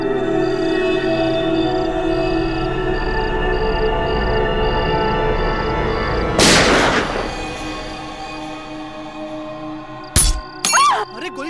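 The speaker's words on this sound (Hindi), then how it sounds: "अरे गोली चलने की आवाज आई।" A single sharp burst of gunfire cracks out in the middle over a steady hum at a party in a TV crime drama, followed by a couple of quick loud bangs near the end.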